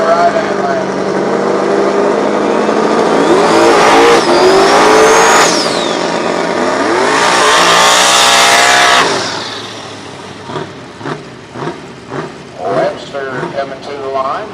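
Drag race cars, the Hillbilly Hustler against a fast Mustang at Salem Motorsports Park, launch with loud, rising engine roars, then the noise cuts off into short revs and bursts while a commentator talks over it.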